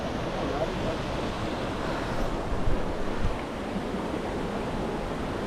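A mountain river's water rushes steadily in a broad, continuous wash, close and fairly loud, with a few soft bumps in the middle and no clear voices over it.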